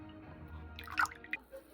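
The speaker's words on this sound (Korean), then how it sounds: "볼 안에 생크림을 부어주세요" Heavy cream poured into a mixing bowl for a no-bake strawberry tiramisu, giving a brief, soft liquid splash and gurgle that rises from a quiet kitchen background and fades within about a second.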